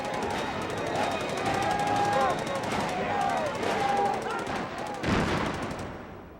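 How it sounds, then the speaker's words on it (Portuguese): Repeated gunfire crackles in a noisy, chaotic scene, with bursts of sharp shots over crowd commotion and shouting, including a loud burst near the end. "Os tiros finalmente espantaram a multidão."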